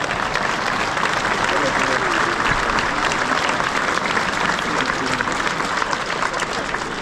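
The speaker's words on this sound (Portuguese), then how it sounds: "Uma salva de palmas para o Padre Valente Marcos." A church congregation at a Fátima pilgrimage site applauds a priest, dense and sustained for several seconds, with voices mixed in under the clapping.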